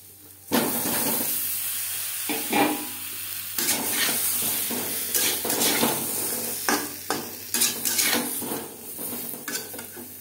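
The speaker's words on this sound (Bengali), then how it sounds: "এবার দিয়ে দেব সেদ্ধ করে রাখা আলু" Boiled potatoes tipped into a pan of hot mustard oil with turmeric powder for a Bengali aloo mutton curry: loud close clanks of a spatula against the metal pan, scraping stirs and a soft sizzle and hiss underneath, with no talking.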